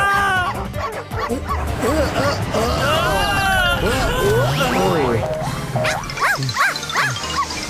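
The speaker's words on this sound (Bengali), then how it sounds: "মনে হচ্ছে আমাদের পেছনে অনেকগুলো কুকুর লেগে আছে।" Several dogs bark and yip excitedly, some whimpering, in rapid overlapping bursts with a busy mix of voices behind them.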